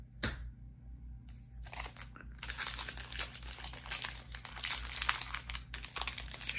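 Magic: The Gathering Modern Horizons booster pack wrappers being torn and crumpled up close, a dense run of crinkling and ripping plastic foil that gets busier and louder after a quiet start.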